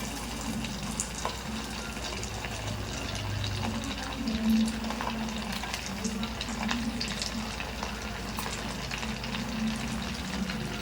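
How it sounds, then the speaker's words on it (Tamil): Steady sizzling and bubbling of rava gulab jamun dough balls deep frying in hot oil in a kadai, a continuous crackle with faint stirring and clinks throughout. "கடாய் வச்சு அதில் எண்ணெய் ஊற்றி சூடு பண்ணியிருக்கேன். அதில் இந்த உருண்டைகளை சேர்த்துக்கலாம்."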